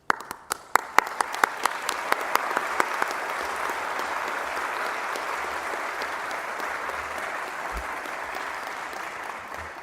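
Applause at a court admission and memorial ceremony: a few separate claps at the start swell quickly into steady, dense clapping from a large indoor audience that carries on evenly to the end.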